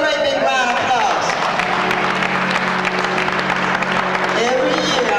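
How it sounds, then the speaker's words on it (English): Audience applause at a gospel show, a continuous dense wash of clapping from a crowd, loud and sustained throughout with a few voices mixed in. "Let's give her a great big round of applause."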